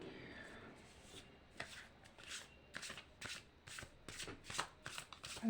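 Tarot cards riffled and shuffled by hand in a quick run of crisp, close slaps and flutters, growing busier toward the end, with no one talking.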